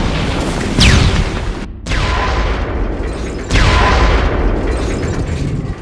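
A cinematic Big Bang explosion effect: loud, deep rumbling booms in repeated waves, each opening with a sweeping whoosh, separated by a brief cutoff and rolling on without speech.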